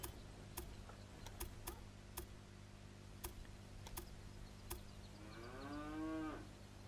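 Cattle in the railway management game Railway Empire give a single drawn-out moo near the end, preceded by a series of sharp clicking ticks over a quiet, humming game background.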